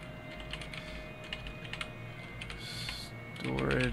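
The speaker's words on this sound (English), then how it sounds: "can I get there by typing it?" Typing on a computer keyboard while working on a Wii U softmod: scattered quick key clicks at moderate volume, with a person starting to talk at the end.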